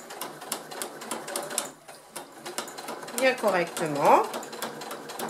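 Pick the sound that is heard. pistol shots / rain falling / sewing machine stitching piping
sewing machine stitching piping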